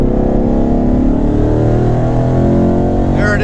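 A 2019 twin-turbo Mustang pulls hard on a highway, its engine droning loud and steady from inside the car as the pitch climbs through the gears.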